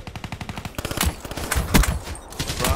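Rapid automatic gunfire in a shooter video game, a fast loud burst of shots followed by heavier, irregular blasts and continued firing.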